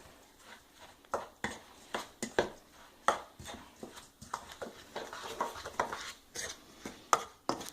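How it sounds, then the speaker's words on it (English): Kimchi ingredients are mixed by hand in a bowl, giving a run of wet slaps and light clattering knocks at an irregular, steady pace, close and moderately loud, with no talking. "Mix this all up in the bowl."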